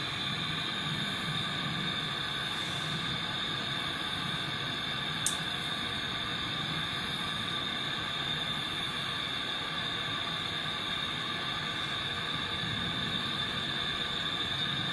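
Radio hiss used for ghost-hunting at night in a cursed priory, a steady broadband white noise with a faint tonal hum running beneath it for the full length and one brief click partway through.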